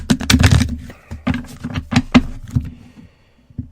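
A deck of cards being shuffled during a live card-reading session, a run of quick, crisp riffling bursts close by, loudest in the first half, then trailing off into quiet with a last small flick.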